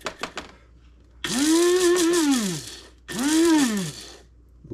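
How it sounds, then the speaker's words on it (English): A coffee grinder grinds black pepper in two bursts, its motor whirring up in pitch and winding back down each time, loud and close, with a short gap between the bursts and no talking. "I love this coffee grinder."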